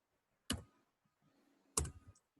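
Two sharp mouse clicks at a computer about a second apart, each loud and close with a short rattling tail, separated by faint low background hum.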